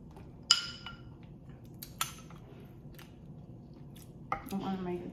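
A metal spoon clinks a few times against a plate of rice, beans and meat during a meal. The clinks are sparse, close and fairly faint, with a quiet room hum under them.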